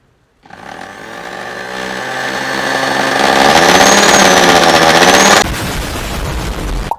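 Power drill boring holes in wood during a DIY van fix, loud continuous motor whine rising in pitch under load for several seconds, then cutting off into a brief rattle.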